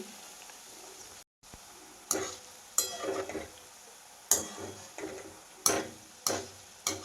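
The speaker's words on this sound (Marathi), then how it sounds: "तापलेल्या तेलामध्येच मी पापडी सोडून घेतलेली आहे आणि गॅसही मोठाच आहे" Papdi dough strips frying in hot oil over a high flame, a steady soft sizzle broken by several sharp bursts of crackling and spatter at irregular intervals, close and clear with no talking.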